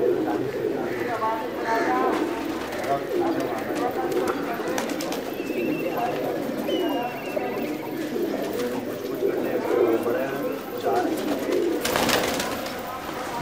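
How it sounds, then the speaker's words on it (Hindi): Pigeons coo at a rooftop loft, soft repeated throaty calls with occasional chirps and a wing flutter near the end, under ongoing talk from people nearby. "देखें ऊपर तक बैठे हुए हैं कबूतर"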